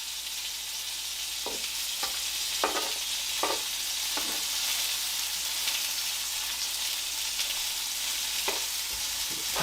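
Peppers frying on a hot grill for Kogi tacos, a steady close hiss and crackle of sizzling oil with occasional soft clicks and scrapes from turning them.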